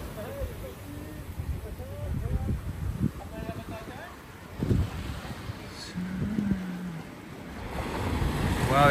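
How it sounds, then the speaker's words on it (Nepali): Ocean waves break on a beach at Semaphore or Henley in Australia, a rushing surf swell rising and falling under wind noise while people chat nearby. "वाह यार कस्तो छाल लाग्यो यार"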